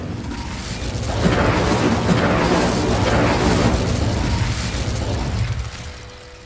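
An Incendio fire spell cast in Hogwarts Legacy gives a loud whooshing, rumbling burst of flame that swells, holds for several seconds and then fades out.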